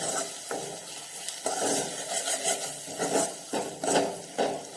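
A spoon scrapes and stirs mixed vegetables with garam masala in a pan with quick, repeated strokes, fairly quiet and close, with a faint sizzle underneath.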